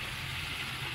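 Mung beans cook in a pan in a restaurant kitchen with a brief, close, steady sizzle and hiss, with no one talking.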